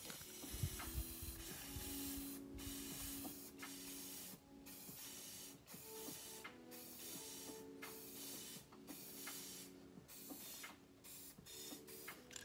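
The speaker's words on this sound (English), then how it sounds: "You spray the red, I'll spray, keep the red." Spray paint cans hiss in repeated short bursts over water for hydro dipping, the sprays alternating in rhythm against a steady mechanical background.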